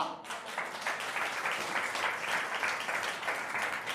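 A church congregation claps together during a Telugu sermon, a dense continuous patter of hand claps at moderate distance that holds steady for several seconds, with faint voices mixed in.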